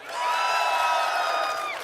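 Loud crowd of panel attendees at a Toronto gaming expo cheering, whooping and clapping in a sustained roar that swells quickly and holds steady.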